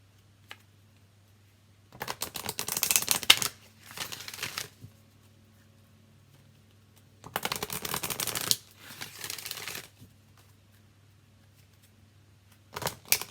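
Angel Guide oracle cards by Kyle Gray being shuffled by hand, close and quiet, in several riffling bursts separated by pauses, with a faint low hum underneath.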